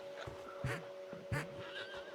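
A large horse whinnies loudly and close by in two strong bursts, with softer snorts and shorter neighs around them.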